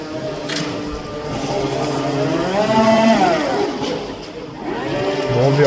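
Original motor of a restored vintage boat from the 2000s running close by, a buzzy two-stroke-like drone whose pitch rises and falls as the revs swell and drop, with faint talk in the background.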